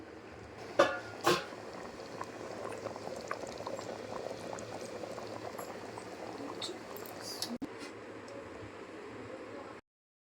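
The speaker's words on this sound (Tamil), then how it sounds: "கொதிச்சு நல்லா வந்துச்சுங்க" Rajput-style fish curry boils steadily in a covered pot, a continuous close bubbling hiss with a couple of brief louder clinks near the start, then cutting off abruptly.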